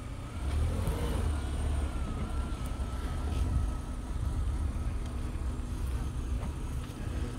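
Steady, loud engine rumble from a Chevrolet Camaro exhaust at a car meet, a continuous low drone with faint crowd noise around it and no clear revs.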